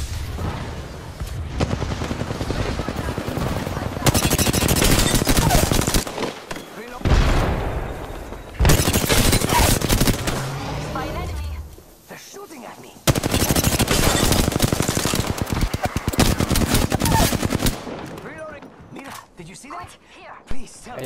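Gunfire in Apex Legends: loud bursts of rapid automatic fire come in several long volleys separated by short quieter gaps, with heavy booms mixed in and a voice talking between the shots.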